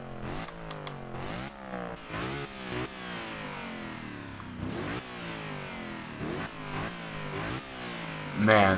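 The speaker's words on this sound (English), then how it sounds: "Oh my god, listen to those turbos." In Forza Horizon 2, a turbocharged Mercedes-Benz SLS AMG engine revs and climbs through several gear changes in quick rising sweeps. It is moderately loud and ends with a brief louder burst.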